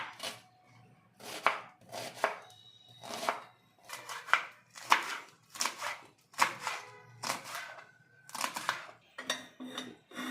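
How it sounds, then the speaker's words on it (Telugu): Green chillies and onions are chopped into small pieces with a knife on a cutting board, about a dozen crisp, evenly spaced chopping bursts close up against a quiet background, no talking. "ఇవి మనం చిన్న ముక్కలుగా కట్ చేసి పెట్టుకుందాం."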